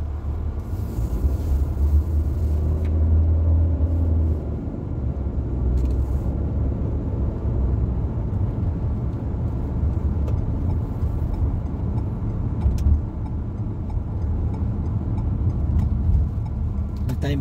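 Steady road traffic with cars passing close by, a continuous loud engine rumble and whoosh with swells as vehicles go past.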